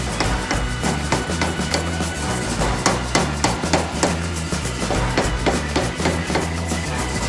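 A hammer forging a steel blade strikes hard and repeatedly in a fast, steady rhythm, close and loud, each blow ringing metallically with no talking over it.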